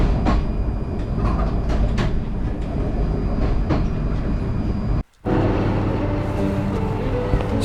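A 30-minute train ride to Putna in Romania, heard from inside a carriage: a loud, continuous rumble with rattling and clacking wheels, then a brief drop to near quiet before the rumble resumes.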